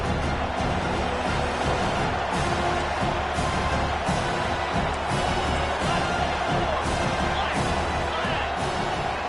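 Roaring stadium crowd at a football game, a dense, continuous wall of noise that stays loud and steady throughout with surges of cheering and no clear voices standing out.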